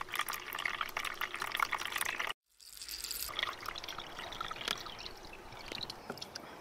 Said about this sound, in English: Just pour the mix together slowly,